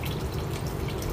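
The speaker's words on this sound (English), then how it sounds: "We will put small amount of water in the thing" Water trickles and splashes steadily into a container while a puppy is being bathed, a close, continuous dripping and pouring sound without talk.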